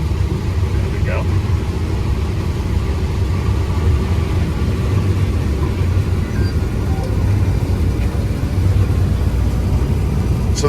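A CLAAS 8600 LEXION combine harvester works through 16 rows of corn with a loud, unbroken low engine drone, heard from close by. Voices talk over the rumble.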